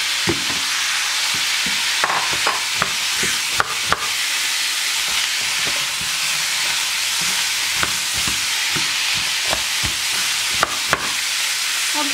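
Zucchini stir frying in a pan: a steady loud sizzle throughout, broken by frequent sharp clicks and scrapes of a utensil stirring and tapping the pan, with no talk.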